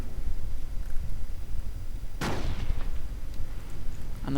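Rifle gunfire in a Company of Heroes World War II strategy battle, a sharp crack with a short decaying echo partway through, over a steady bed of distant battlefield noise.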